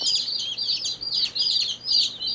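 Baby chicks peep in rapid, high, repeated chirps, with short pauses between bursts, close and clear with no talking, as they are placed in a brooder and start pecking around.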